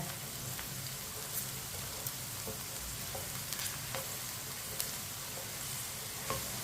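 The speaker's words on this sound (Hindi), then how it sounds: "भिंडी को मैंने 3 मिनट के लिए फ्राई कर लिया है।" Okra sizzles steadily in a hot pan for aloo bhindi, making a constant, fairly loud frying hiss with small pops and crackles scattered through it and no voices.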